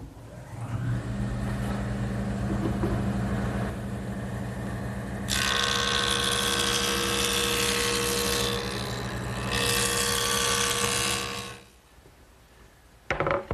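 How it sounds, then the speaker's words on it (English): A jointer in a woodworking shop planes the back edge of a wood panel to make it straight and square, giving a loud, steady mechanical whine with a brighter cutting roar in two passes before it winds down. "the next thing I want to do is joint this back edge so that it's straight and square"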